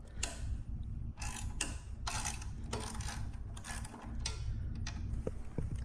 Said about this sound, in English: So then you take your 10 millimeter socket and you just loosen these.